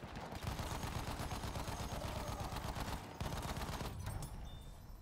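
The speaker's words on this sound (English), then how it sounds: "machine gun." Sustained MG 15 machine gun fire in the Battlefield 1 video game, a rapid unbroken stream of shots lasting several seconds with a brief pause before resuming, loud and dense with no talking.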